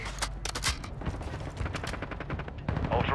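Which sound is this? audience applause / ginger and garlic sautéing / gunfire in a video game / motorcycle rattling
gunfire in a video game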